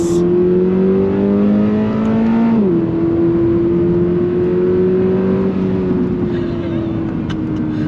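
A 2022 Subaru BRZ sports car accelerates hard on throttle, its engine note climbing steadily, dipping briefly at a gear change, then rising again, loud and close from inside the cabin.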